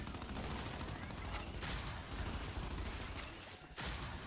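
Dense, rapid gunfire from the video game Gears 5 runs nearly continuously and loudly, with a few sharper shots standing out in the clatter.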